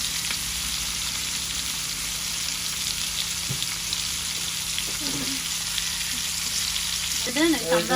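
Hilsa fish fries in hot oil with steady, crackling sizzle filling the whole stretch, with a few faint clinks and short bursts of muffled voice near the end.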